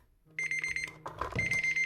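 Kitchen timer going off during banana bread baking, a quiet, high electronic beeping alarm in short repeated bursts, sounding alone in a quiet kitchen.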